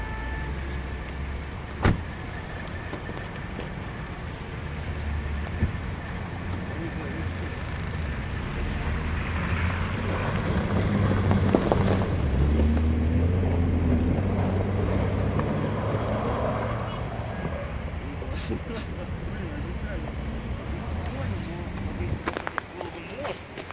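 Car drifting near the Ulmart store, its engine droning and swelling through the middle of the run before easing off again, heard from nearby with people talking over it.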